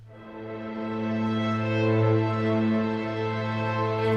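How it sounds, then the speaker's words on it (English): Short crescendo string sample from the Sunset Strings library, one sustained bowed tone swelling gently in volume and holding, heard alone and close with no voices. "And then we have short crescendo"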